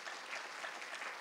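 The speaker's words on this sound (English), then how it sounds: "Now somebody clap like you've received possession of those things." Church congregation clapping during a sermon, a steady continuous patter of many hands held for about a second, fairly faint and without talk.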